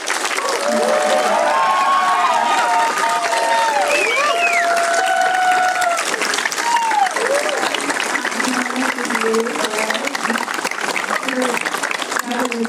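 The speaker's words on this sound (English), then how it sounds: "now let's cheer for our graduating class of nurses" An audience at a 2025 Plymouth State nursing pinning ceremony cheers and applauds the graduating nurses: sustained, loud clapping with shouts and whoops rolling on without a break.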